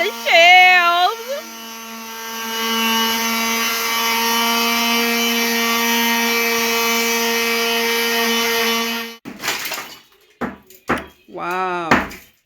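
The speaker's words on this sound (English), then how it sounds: "He helping me sand the shelves, yo." A power tool sands wooden laundry-room shelves with a steady, loud buzzing hum that runs for about nine seconds and then stops, followed by scattered knocks and voices talking.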